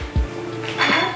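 Plates are set down for sharing cimol snacks, giving a dull knock followed by a ringing clatter of dishes a moment later, close by with light room noise.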